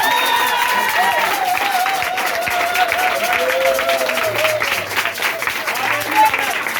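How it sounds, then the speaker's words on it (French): At a French-language church service, a congregation claps in a dense, steady burst of applause lasting throughout, with a loud sustained voice or singing carried over the top. "Acclame pour toi-même ce soir."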